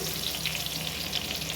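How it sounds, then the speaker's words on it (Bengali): Garlic and green chilli hitting hot oil, a dense, even sizzle up close, with no voices. "তেলটা গরম হয়ে গেছে, একটুখানি রসুন দিলাম, আগে রসুনটা ফোড়ন দিয়ে নিলাম"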